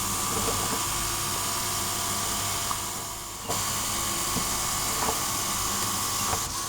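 A fischertechnik hydraulic model system runs with a steady, high-pitched electric whine from its pump or compressor, continuous and fairly close, with a few small clicks and a slight dip in pitch partway through.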